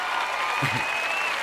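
A crowd at a Joyce Meyer teaching session applauds in a soft, continuous patter of many hands, fairly distant and even, with a brief low murmur partway through.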